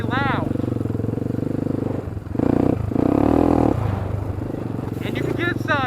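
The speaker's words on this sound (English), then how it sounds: "Right off the bat, you'll notice this bike with the exhaust is very loud." A Honda 300EX sport quad with a loud aftermarket exhaust chugs at a loping idle, then blips and revs hard in short bursts before dropping back, close and loud, with a voice talking briefly over the engine.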